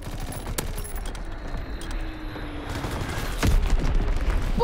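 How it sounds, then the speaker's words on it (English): An Azon bomb drops and explodes in the Call of Duty WWII game, a dense rumbling barrage of blasts and gunfire with a heavier boom near the end, loud and continuous. "Dropping Azon bomb."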